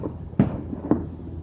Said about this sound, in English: There's fireworks going on.